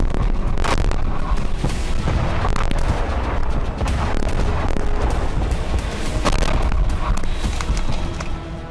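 A Ukrainian rocket strike on a car in Belgorod brings loud, repeated booms and sharp cracking bursts over a continuous rumbling din, with no talk.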